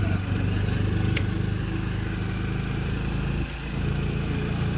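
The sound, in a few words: auto-rickshaw engine during a ride in Tirupati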